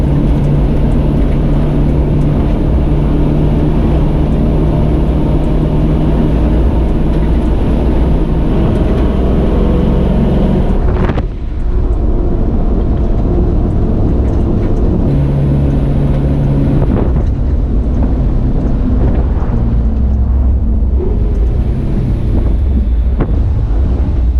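A truck engine idles roughly and choppily after its transmission was reinstalled, a loud, close, continuous rumble with wind buffeting the microphone and a brief dip partway through.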